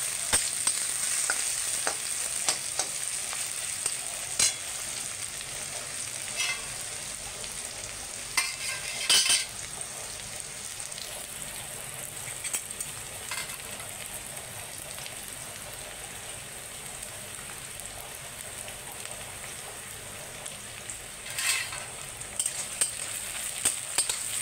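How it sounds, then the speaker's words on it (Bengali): Onions frying in a pan on a home stove, a steady broadband sizzle and crackle with occasional stirring clicks, continuous throughout with no talk. "আমি পেঁয়াজটাকে একটু লাল লাল করে ভাজবো"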